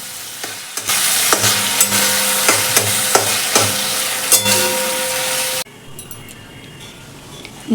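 Chopped tomato, spices and ginger-garlic paste are stirred in a hot pan for a fish curry, with loud sizzling and regular scraping spatula strokes. The sizzle cuts off abruptly near the end, leaving quiet room sound.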